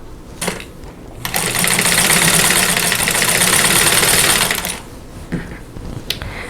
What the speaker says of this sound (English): I'm going to sew them together in rows, and then I'll sew the rows together.